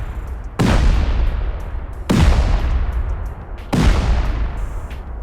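C4 charges and rockets blast a base during a raid in the video game Rust. Three loud, heavy explosions land about a second and a half apart, each booming and then rumbling away.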